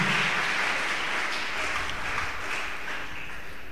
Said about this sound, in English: So give claps and congratulations to your brother Chintan Talaja.